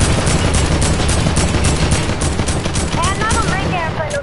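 Rapid automatic gunfire from a video game rattles continuously and loudly, with a voice talking over the shooting.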